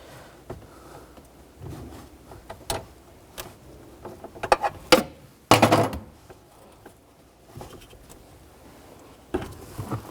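A 10 mm wrench works the negative battery terminal of a 2004-2009 Toyota Prius, giving scattered close metallic clicks and taps. A few louder knocks come in the middle.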